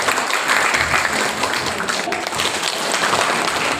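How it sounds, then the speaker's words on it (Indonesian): Steady audience applause at a community health event in a West Java village, dense clapping holding at a constant level throughout with some background voices mixed in. "Tepuk tangan Ibu Bapak."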